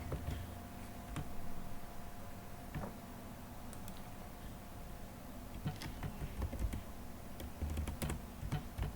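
Typing on a computer keyboard while writing Salesforce code, with uneven bursts of close, crisp key clicks over a steady low background hum and no talking.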